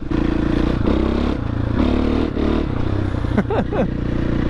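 A dirt bike engine chugs steadily at low revs in second gear at a motocross track, loud and close, with clattering and scraping noises through the ride.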